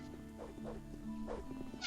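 Faint chicken clucking from a chicken in Gothic Multiplayer, a few soft, short calls spaced unevenly over a low, steady game background.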